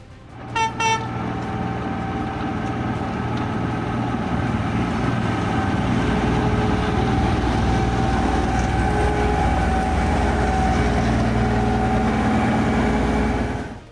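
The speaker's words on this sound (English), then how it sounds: "the snow-clearing locomotive created a real spectacle with giant snow fountains" A snow-clearing locomotive's horn sounds in a short burst of toots, then a loud, steady diesel engine roar continues close by, droning without a break until it fades at the very end.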